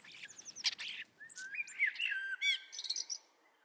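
Songbirds chirp and warble in quick bursts of high, bright notes, faint and a little distant, with short pauses between phrases and no other sounds.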